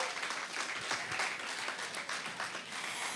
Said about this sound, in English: let's give the men a round of applause for being here